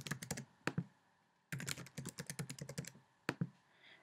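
Quick bursts of computer keyboard key presses as a username is entered, close and crisp, with short pauses between clusters of taps.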